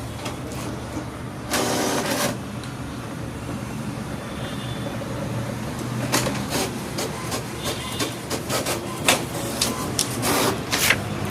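A repaired inkjet-style printer running a black and white page: steady mechanical whirring with a burst of feed noise early, then a run of rapid clicks and clacks toward the end, fairly close and with no talk.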